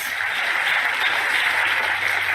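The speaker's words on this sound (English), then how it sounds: "I think that deserves a round of applause." An audience at the Alpine 2024 Formula One car launch applauds in a steady, dense wash of clapping that holds at an even level throughout.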